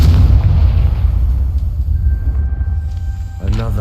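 The Confringo fire spell in Hogwarts Legacy goes off as a loud booming blast with a sustained roaring rumble, followed by a brief burst of game sound at the end.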